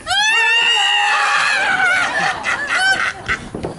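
A cartoon bird in the French animation Bonjour Pépin Adieu Berthe squawks loudly in a run of shrill, honking cries that rise and waver, then break into shorter squawks, with no talk.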